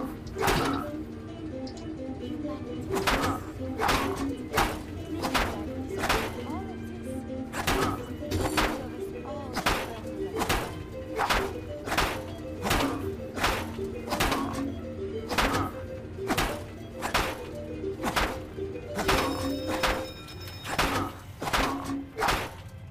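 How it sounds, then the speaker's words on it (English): Arcade targets whacked with a knife in the Nuka-World park of Fallout 4, a steady series of loud, evenly spaced thunks over a constant background hum, with no talk. "take out your knife if you want to, anything with a high hit rate, and start whacking them"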